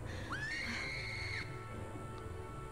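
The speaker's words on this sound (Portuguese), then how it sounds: "Ela tem agilidade e ela pode quebrar vidro berrando" A character's high, rising scream in the Lego Jurassic World video game, the cry that breaks glass, one sustained shriek of about a second over game background sound and music.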